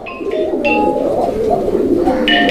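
Pigeons at a fancy pigeon sale coo in close, loud, throaty murmurs, several rolling coos running together with a few brighter chirps and a faint voice in the background.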